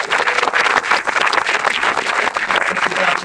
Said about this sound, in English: Let's give him a big round of applause as I welcome him to the podium